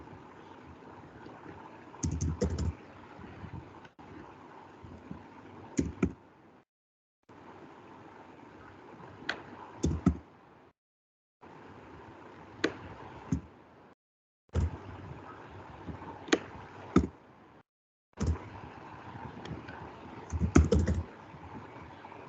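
Someone types on a computer keyboard in bursts, quick clusters of clicks separated by pauses and near-silent gaps, close and fairly quiet.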